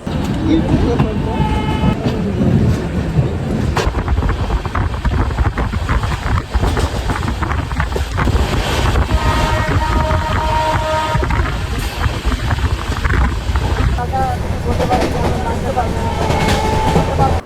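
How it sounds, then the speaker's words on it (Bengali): A passenger train pulls into Nabadwip Dham railway station, heard loud and close from a carriage doorway, with a continuous rumble and clatter of wheels. The horn sounds briefly near the start and again in longer blasts midway. "আমাদের ট্রেন কিন্তু ঢুকলো নবদ্বীপ ধাম রেলওয়ে স্টেশনে"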